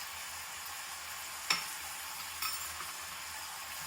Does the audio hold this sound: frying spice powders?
yes